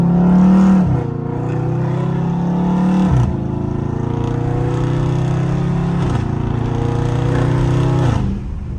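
Dodge Scat Pack V8 engine downshifting through paddle shifters in traffic, loud and close, with repeated rev blips and throttle pulls rising and dropping in pitch over a steady exhaust rumble.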